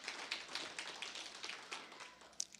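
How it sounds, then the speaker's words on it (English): A church congregation claps for a service, a scattered run of soft, fairly distant hand claps spread unevenly through the moment. "some of you wanted to clap, and I think we should for that service"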